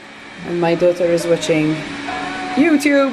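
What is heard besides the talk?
robot vacuum cleaner running in the background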